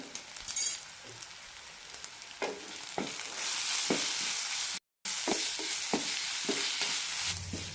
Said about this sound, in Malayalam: മസാല ഒന്നുകൂടി നന്നായി റോസ്റ്റ് ചെയ്തെടുത്താൽ മതി